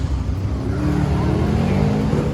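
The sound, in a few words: small tire drag racing car doing a burnout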